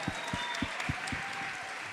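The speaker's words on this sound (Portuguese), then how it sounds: "Palmas, palmas." Audience applause at a Rio2C 2023 celebrity panel, moderate steady clapping with a few distinct near hand claps in rhythm over a diffuse crowd wash, fairly faint.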